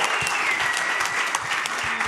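An audience applauds during an Aussie Rules football show for Essendon, a steady, dense wash of clapping that fills the whole stretch at close range, with no voices over it.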